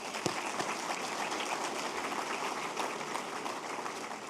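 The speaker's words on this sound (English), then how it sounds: "Please join me and give another round of applause." Audience at Fresno's 2017 State of the City address gives a round of applause, a dense continuous crackle of many hands clapping evenly from start to finish, with no voices on top.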